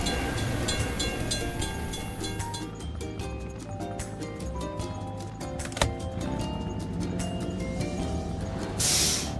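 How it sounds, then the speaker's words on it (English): A train rolls past a closed crossing gate in a cartoon construction-vehicle game, a steady synthetic rumble with rhythmic clacking wheels under light background music, ending in a brief hissing burst. "We have to wait for the train to pass."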